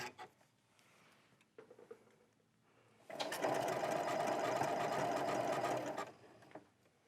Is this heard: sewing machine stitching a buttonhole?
yes